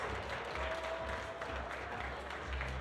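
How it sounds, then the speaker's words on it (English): Audience applause at a youth bouldering competition finals in Graz, a steady wash of clapping from a crowd lasting the whole moment, fairly distant and even, with no talk over it. "Big applause."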